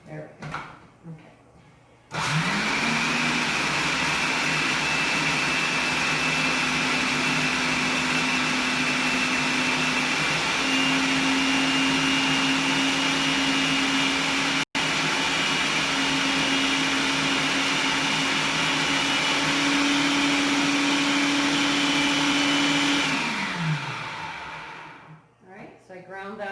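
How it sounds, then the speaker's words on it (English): A food processor starts up and whirs at full speed, grinding ingredients in a loud, steady motorized drone for about twenty seconds, with a faint rise in pitch midway before it spins down and stops. "And my food processor."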